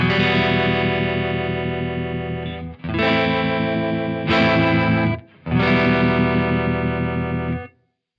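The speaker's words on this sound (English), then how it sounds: "Let's go to low bias and a faster speed and low intensity." A guitar runs through a Strymon UltraViolet tremolo set to low bias, fast speed and low intensity. Sustained chords shimmer with a quick, gentle pulsing, and they are played in four separate strums with brief gaps between them.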